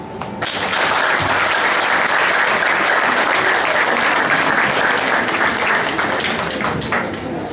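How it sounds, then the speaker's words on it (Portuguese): A crowd at a community meeting breaks into a round of applause that begins abruptly and stays loud, dense and sustained throughout, with no voices over it. "Uma grande salva de palmas desde já"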